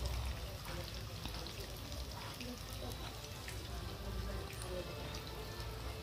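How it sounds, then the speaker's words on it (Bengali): Chicken pieces fry in hot oil for chili chicken, making a dense, continuous crackling sizzle that holds steady and fairly close throughout. "এখনও আছে কতগুলো চিকেন, তো এগুলো এবার আস্তে আস্তে আমি ভেজে নেব।"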